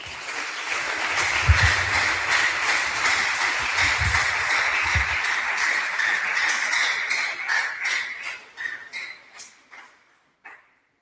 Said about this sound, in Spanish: Vamos a darle un aplauso a Jesús.